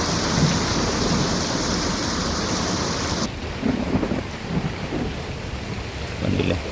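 Heavy rain pours steadily in Areekode South, Kerala, in a storm that brought down a house's back wall. A deep rumble of thunder rolls through the downpour, which keeps up a dense, loud hiss throughout.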